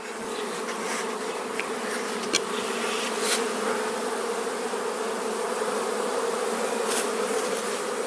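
Honeybees buzzing around a full hive frame in June, a dense continuous hum close by with individual bees zipping past now and then, no talking.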